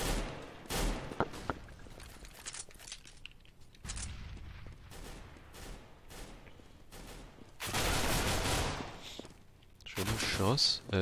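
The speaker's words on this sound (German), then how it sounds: "Schuss" Gunfire from Counter-Strike: Global Offensive on de_mirage during a competitive esports match: repeated bursts of shots and rattling fire come in clusters, some loud and close, with a commentator talking over much of the action.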